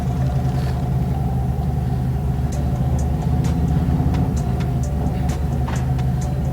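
Car riding on newly installed Legends Revo A's shock suspension during a short test drive, giving a steady loud engine and road rumble inside the cabin with a few faint clicks and rattles, no talking.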